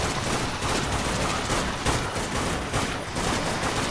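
Rapid gunfire in the zombie shooter Dead Nation, a dense, continuous barrage of shots with a few stronger bursts, loud and without pause, no voices.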